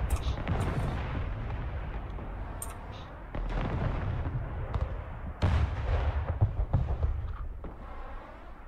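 Mobile artillery firing in the Broken Arrow video game during a night battle, with repeated heavy booms and blasts at irregular intervals, some close and loud, others more distant, over continuous rumble.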